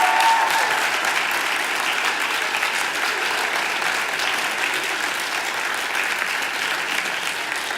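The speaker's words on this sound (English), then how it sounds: "Can we just have one more round of applause for all our speakers here today?" A conference audience applauds its speakers with dense, sustained clapping that stays loud and even from start to finish, easing off only slightly toward the end.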